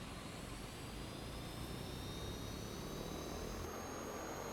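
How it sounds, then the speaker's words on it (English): A jet aircraft engine spools up in a flight simulator game, a steady broadband roar with a thin turbine whine climbing slowly in pitch, even and continuous throughout. "Let's see if we can actually start an engine."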